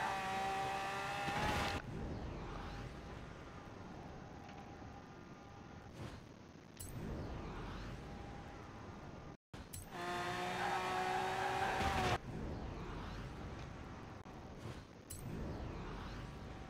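Koenigsegg Agera RS in Forza Horizon 4 accelerating hard toward 270 mph, loud continuous engine roar climbing in pitch with sharp breaks at each upshift through seventh gear, heard alone at close range.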